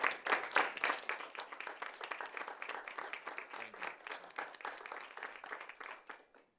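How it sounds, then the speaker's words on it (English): Applause at a McAllen ISD special school board meeting, a room of people clapping steadily with dense overlapping claps that start strong and gradually thin and fade toward the end. "ask again for another round of applause"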